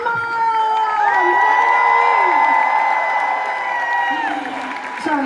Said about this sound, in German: Applaus für Roman.